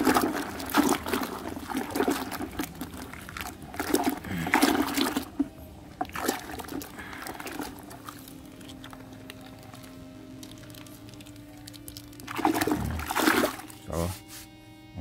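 Water mixed with shampoo and conditioner for bathing a gamecock, heard as intermittent splashing and trickling in bursts with quieter gaps, fairly faint, with speech over parts of it.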